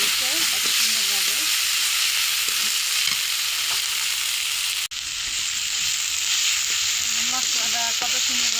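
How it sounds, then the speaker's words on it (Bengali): Masala fries in a pan for a taro-stolon and dried-fish dish, a dense, steady sizzling hiss with light stirring scrapes, close and loud, with a momentary dip partway through. "মশলাটা কত সুন্দরভাবে কষানো হয়ে গেছে, ভাজা ভাজা হয়ে গেছে।"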